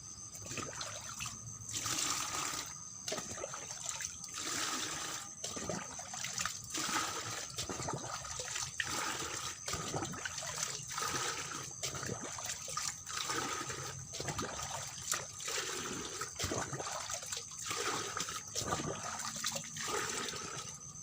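Collected rainwater mixed with dish and laundry washing water pours from a dipper through a length of PVC pipe in a starfruit garden. The flow is a continuous trickling, splashing stream with rhythmic surges and no voices.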